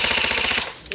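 An airsoft AEG rifle fires on full auto at close range, a rapid, evenly paced rattling burst of shots that runs loud for over half a second and then cuts off.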